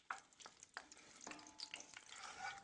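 A sliced serrano chili cooks with garlic in olive oil in a pan while being stirred, giving a soft, steady sizzle with intermittent scraping and clicking from the stirring.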